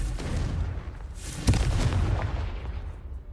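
Confringo fire spell blast in Hogwarts Legacy combat, a dense rumbling explosion with a sharp crack near the middle, loud and close, fading slowly with no talk.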